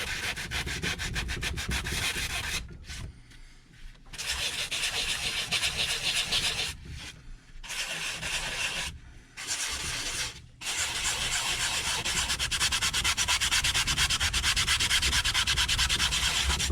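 A 60-grit sanding sponge is rubbed by hand in small, tight circles on wood, giving a continuous, close abrasive scrubbing. It breaks off briefly three or four times and then resumes, with no voices.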